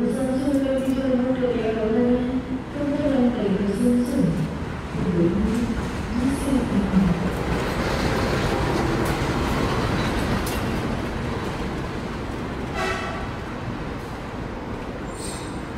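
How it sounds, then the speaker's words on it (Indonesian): The Fajar Utama Yogyakarta passenger train rolls into platform 3 at Pasar Senen station in Jakarta with a steady rumble and clatter of wheels, brakes squealing at times, while a voice speaks over the early part. "Kereta api Fajar Utama Yogyakarta saat ini sudah masuk di jalur nomor 3 ya."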